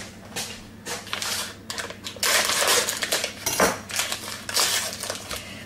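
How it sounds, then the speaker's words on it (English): A kitchen knife splitting sausages in half on a board, a quick series of close taps, scrapes and clacks against the surface, irregular and sharp, with no talk. "So you basically you split the sausage like that and split it out"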